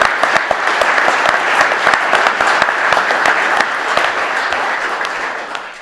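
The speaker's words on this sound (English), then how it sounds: "give me a big round of applause for our spokesman, Ernie Warrender" Audience in the Guildhall, Gloucester, applauds a UKIP spokesman with dense, steady clapping that fills the room at a loud, even level before slowly tapering toward the end.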